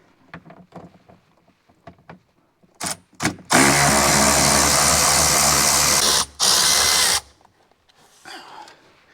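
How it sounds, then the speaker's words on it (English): A power drill spins out 10 millimeter bolts on a 2024 Ford F150 4x4 5.0. A few light clicks and handling knocks lead into a loud, close whirring burst about three seconds long, then a brief pause and a second, shorter burst. "So you got 2 bolts to take out. So let's get those taken out."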